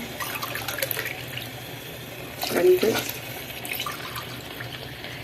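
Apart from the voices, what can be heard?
pouring water into rice for soya biryani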